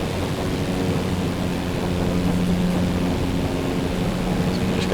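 Aircraft engine in Microsoft Flight Simulator 2024, heard as a steady, moderately loud propeller drone with no clear rise in pitch, alone without talk.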